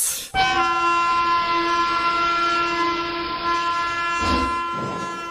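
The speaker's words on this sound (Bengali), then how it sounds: "সোমবার সকাল 6:45 তাম্রলিপ্ত এক্সপ্রেস।" A train horn blares in a long, loud, steady harmonic blast over rumbling rail noise, with a brief clatter near the end, standing in for the Tamralipta Express departing in a Bengali audio drama.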